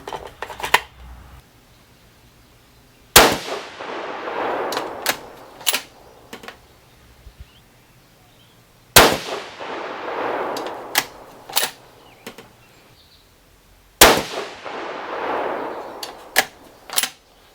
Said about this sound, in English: we're going to go ahead and shoot this last group here